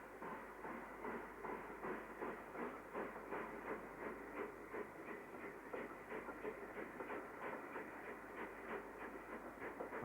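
Steam locomotive 73135 hauls a train out past a station, a steady hissing rush of leaking steam and rolling wheels in a fast rhythmic chuff, heard from a moderate distance.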